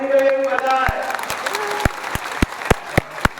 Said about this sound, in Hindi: एक बार जोरदार ताली अटल बिहारी वाजपेयी जी के लिए भी बजाएं